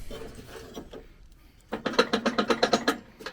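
Mower deck pulley shaken by hand, giving a loose rattling clatter: scattered knocks at first, then after a short lull a quick run of about a dozen sharp metallic rattles, close and fairly loud with no voices.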